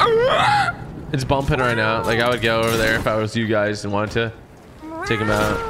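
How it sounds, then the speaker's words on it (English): A cat meows several times over a voice call during an online Fortnite game, the high wavering cries blending with and following people talking. "Is that a cat in the call?"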